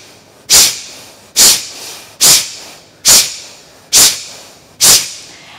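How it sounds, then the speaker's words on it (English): Kapalabhati pranayama breathing: six sharp, forceful nasal exhales like hissing puffs, evenly spaced about a second apart, close and loud with quiet between. "So the breath will sound like this."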